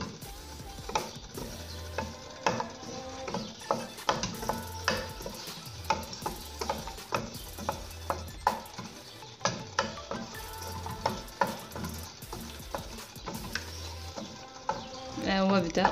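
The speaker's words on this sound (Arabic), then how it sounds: "كنحركو الشكلاط مزيان حتى كيدوب" A spoon scrapes and knocks repeatedly around a pot of melting chocolate in an uneven rhythm, close and fairly quiet, with soft background noise throughout.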